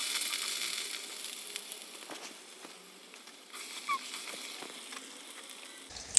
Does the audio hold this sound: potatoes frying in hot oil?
yes